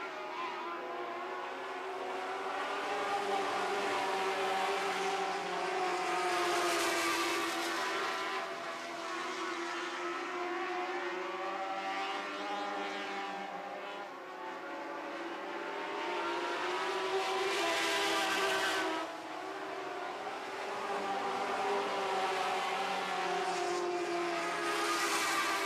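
Lightning sprint race car engines screaming at around 13,000 RPM during a heat race, several cars whining past in waves that rise and fade, heard from a distance with no one talking.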